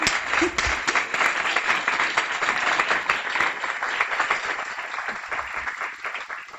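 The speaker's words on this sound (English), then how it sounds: "Please stand up so we can give you a big round of applause." A crowd at a guide dog school graduation ceremony applauds steadily and loudly, a dense wash of clapping that carries on without pause before tapering a little at the end.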